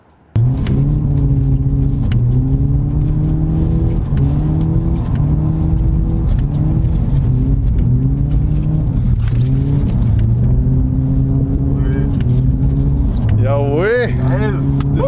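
A BMW E36 drift car drifting on a track, engine revving in repeated rising and falling pulls with tire squeal near the end, loud and close throughout.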